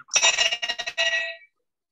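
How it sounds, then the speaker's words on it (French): A bell struck with a mallet to open a Rotary Club meeting in Cotonou rings out in a quick cluster of bright, close strikes over about a second and a half, then its ringing cuts off into silence. "La cloche et le maillet."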